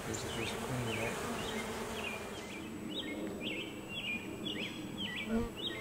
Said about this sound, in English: bees are a little bit stirred up right now